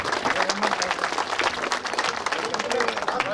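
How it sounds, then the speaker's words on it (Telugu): Loud, dense clapping from an audience at a community service event held by a 2009 batch of police sub-inspectors, continuous throughout with voices talking over it. "గట్టిగా చప్పట్లు."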